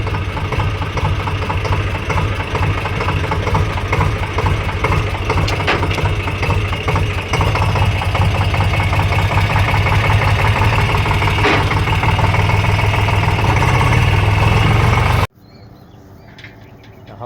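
A steady, rumbling tractor engine idles close by for about fifteen seconds, then cuts off abruptly, leaving quiet background.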